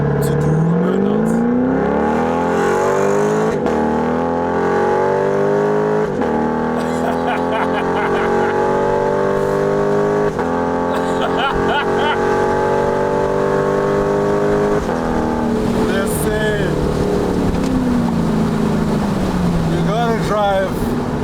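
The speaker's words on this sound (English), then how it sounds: "And in true American muscle form, it is only customary to do a burnout." A Chevrolet Camaro SS muscle car roars through a burnout, its V8 rising and falling in a sustained, loud, close growl with revving swells, without speech over it.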